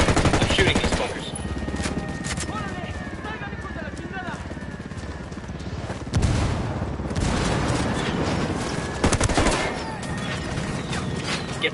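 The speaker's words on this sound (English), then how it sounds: "I'm shooting these fuckers" Gunfire from the tactical shooter Ghost Recon: Wildlands, with dense rattling automatic fire and several heavier blasts amid a noisy battlefield, while voices shout over the shooting.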